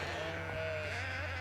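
Sheep bleat in a barn, one drawn-out wavering call close by over a low steady hum.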